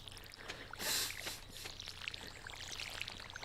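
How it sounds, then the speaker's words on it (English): Watering plants with a watering can in the video game Stardew Valley: a brief, soft splashing pour rises and fades, followed by faint scattered drips and trickles in a quiet background, with no one speaking. "Now we just got to water all the new plants we put in."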